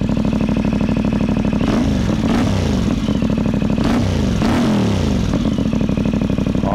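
A CFMoto 450MT adventure motorcycle with an aftermarket exhaust pipe idles with a loud, steady throb and is revved in several sharp rising bursts, close and alone with no talk.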